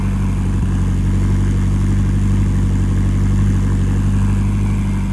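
A car engine idles steadily through its exhaust, an Opel Z20LET or a Ford RS engine running V-Power fuel: a loud, close, continuous low rumble with an even throb and no talk.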